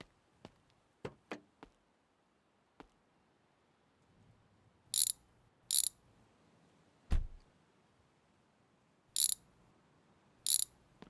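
A ratchet wrench works loose bolts on a car during a garage restoration: a few short, sharp clicking bursts spaced several seconds apart, with scattered knocks and taps of tools in between, close and fairly quiet with no talking.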